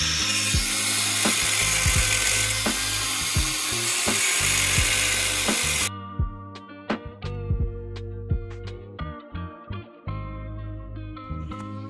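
Cutting tool slicing off a bolt on a Subaru catless downpipe: a steady loud grinding-cutting roar for about six seconds, then a run of sharp metallic clinks, clanks and ratchet-like clicks.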